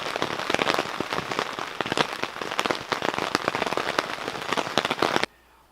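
Heavy rain pelts a surface at a riverside campsite in a steady, dense patter of close drops with sharp individual hits, continuous and loud until it cuts off abruptly near the end.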